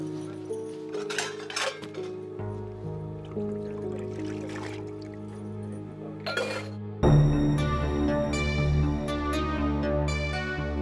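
Dishes and utensils clinking and clattering during washing in a home kitchen, with a steady run of metallic chinks that grows louder and busier in the second half, plus faint water trickling underneath.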